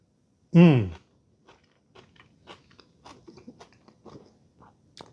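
A loud crunching bite of cold, crunchy Mexican slaw with cilantro opens, followed by quieter, irregular crisp chewing sounds close to the microphone.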